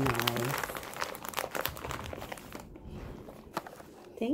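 Wrapping paper crinkles and rustles in irregular bursts as a gift is wrapped, mixed with voices talking nearby.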